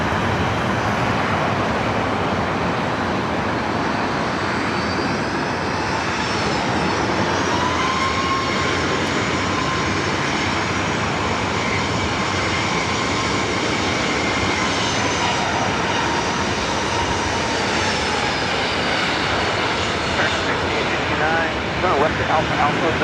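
A jet airliner on final approach to runway 24 right at LAX roars in a steady loud drone, with a rising whine and some traffic noise around it.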